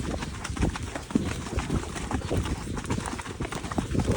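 A cob horse out on a hack breaks into a canter, its hooves clip-clopping close by in a quick, steady three-beat rhythm, with soft rustling around it.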